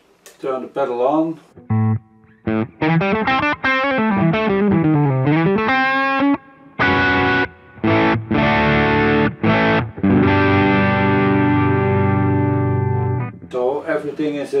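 Distorted electric guitar through an overdrive pedal playing a riff of chords and single notes, loud and saturated, with short pauses between phrases and sustained ringing notes.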